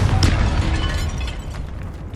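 A Confringo blasting spell goes off in the Hogwarts Legacy video game, a loud, dense burst with heavy low rumble that stays sustained and rolling for about two seconds, with no talking.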